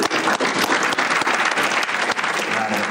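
An audience at a college athletics hall of fame induction ceremony breaks into loud, sustained applause, a dense wash of many hands clapping continuously for the whole stretch.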